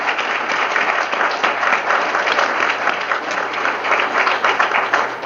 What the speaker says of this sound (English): I think we owe them a big round of applause, people, for what they've done.